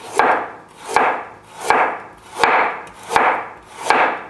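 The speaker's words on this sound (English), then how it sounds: "And still have some carrot. See? Just give them a few thinly slices." A knife slices carrots thinly on a wooden board in six steady, evenly spaced strokes, each a close, crisp cut ending in a sharp tap on the board.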